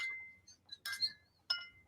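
Drinking glasses clink together in a toast, with a few bright, ringing chimes near the mic spread over about two seconds and a short silence between them.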